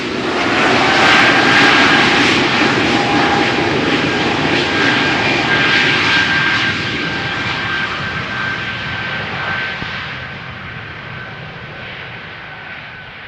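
A jet airliner departs from runway 36L at Amsterdam Schiphol Airport, its engines producing a loud, sustained roar with a steady whine that slowly fades over several seconds.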